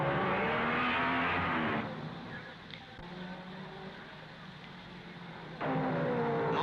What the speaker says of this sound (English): But now on lap 50, Moss comes round alone.